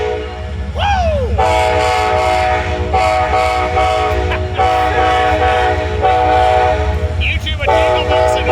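An Amtrak Southwest Chief locomotive horn departing Fullerton blasts a loud, close melodic sequence of Jingle Bells, several sustained chord notes separated by short breaks, with engine rumble beneath.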